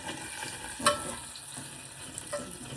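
Chicken pieces frying to golden brown in oil for chicken pickle, a soft steady sizzle and stir with one sharp clatter near the start, no talk.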